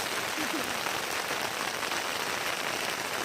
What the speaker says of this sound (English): the more she wants to get out, the more it rains